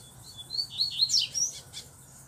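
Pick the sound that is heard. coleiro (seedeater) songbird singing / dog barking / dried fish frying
coleiro (seedeater) songbird singing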